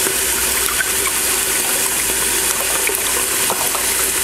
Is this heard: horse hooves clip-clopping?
no